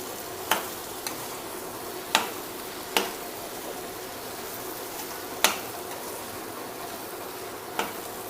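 Boiled potato pieces are tipped into aloo kurma and stirred in a pan: a soft, steady scraping hiss with several sharp clicks of the spoon striking the vessel at irregular intervals.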